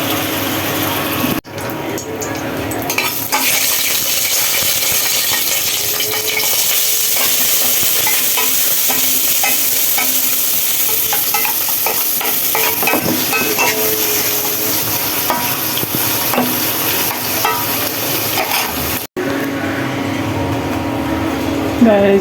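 Ridge gourd cooked with egg is stirred and fried in a pan, giving a steady sizzle with scraping stirs throughout, under a constant background hum.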